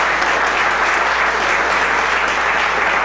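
Steady, dense applause from an audience at a Colombian national music day cultural evening, loud and sustained throughout with no break.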